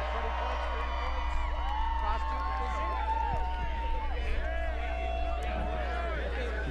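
Crowd at a pond skim event whoops and cheers in a steady, sustained roar, with scattered shouts and whistles rising above a constant low rumble, heard alongside people talking.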